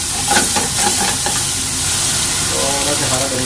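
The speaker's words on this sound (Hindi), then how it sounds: "आधा शिमला मिर्च इसमें डालना, डाल के थोड़ा सा भून देना," Chopped capsicum fries in gravy for hotel-style egg masala, a loud, close, continuous sizzle and bubbling with stirring scrapes throughout.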